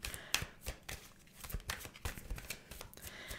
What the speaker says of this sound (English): let me give this one more shuffle because I don't like what happened there.